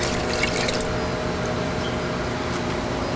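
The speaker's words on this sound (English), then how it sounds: "I'm gonna add it to the beer now." Yeast starter poured into beer wort during home brewing, a steady wash of liquid streaming and splashing throughout, with a brighter splashy burst at the start before settling into an even pour.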